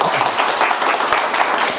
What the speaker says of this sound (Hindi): एक बार जोरदार ताली बजा दो भैया सब